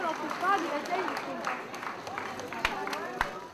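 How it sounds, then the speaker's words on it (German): Reutlingen fans cheer and shout for the local Hells Angels president at his wedding celebration, a dense crowd roar of voices with scattered claps and sharp whoops rising and falling throughout. "Reutlinger Fans jubeln dem örtlichen Hells Angels Präsidenten zu."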